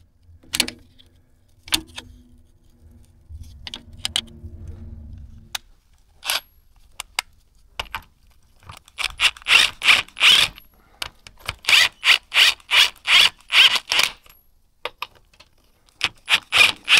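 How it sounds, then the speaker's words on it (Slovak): Steel chain and connecting link on a Tajfun EGV 85 AHK forestry winch being turned and pushed out after the chain snapped, producing a run of close, sharp metallic clinks and clacks, sparse at first and then dense and rhythmic, with no talk. "pootočím trošku reťaz a potom ju vytlačím druhou spojkou z druhej strany"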